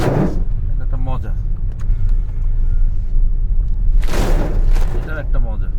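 Toyota Premio car driving through rain in Dhaka, with a steady low road rumble and engine drone beneath someone talking intermittently.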